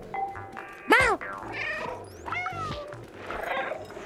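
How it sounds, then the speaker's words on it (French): In the video game Stray, a cat gives a loud rising-falling meow near the start, followed by softer chirps and mews over game background sounds, with a person talking throughout. "Je commence à courir dans tous les sens. Et je miaule."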